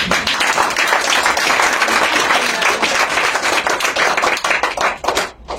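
A worship congregation breaks into sustained applause for Jesus, many hands clapping loudly and densely without pause, tapering slightly at the very end.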